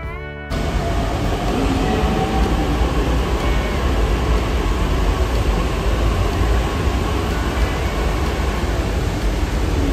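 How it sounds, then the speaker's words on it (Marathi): A Pune metro train rolls along in a steady, loud, continuous rumble that fills the whole stretch without letting up, heard from close by. "पुढच्या ना 10-15 मिनिटांमध्ये लगेचच ही दुसरी मेट्रो आली"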